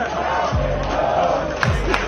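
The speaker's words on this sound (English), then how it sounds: "the crowd goes wild there" Fans at a football practice field chant and cheer for running back Dalvin Cook, a loud, rhythmic crowd roar with a low hum underneath, heard briefly and continuously.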